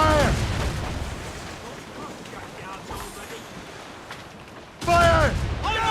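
A volley of ship cannon fire booms in a naval battle in Assassin's Creed Rogue, with heavy blasts and rumbling wind and sea. Crew voices shout over it at the start and again near the end.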